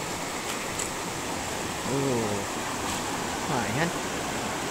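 A small waterfall and clear stream at a little dam beside a wooden footbridge give a steady, close rush of water throughout, with a few brief spoken words over it.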